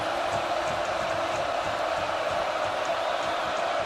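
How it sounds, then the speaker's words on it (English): A football stadium crowd at an Indiana versus Oregon game makes a steady, broad roar from far away. The cheering is constant and has no distinct peaks. "Crowd trying to get back into it after that long field goal gave Indiana the lead."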